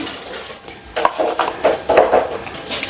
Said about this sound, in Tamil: அதுக்காக தாளிப்பு போட்டுக்கிறேன்